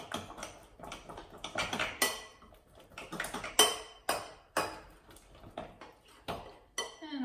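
A spoon clinks and scrapes against a bowl while keto porridge is stirred, giving a run of quick, irregular metallic taps and clatters close by, with no talking.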